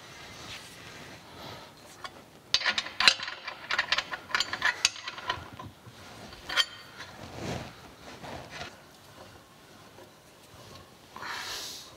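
Ratcheting clicks and metallic handling while bolts are tightened on line shaft brackets during a metal planer restoration, close and intermittent bursts of clicking with pauses, no talking.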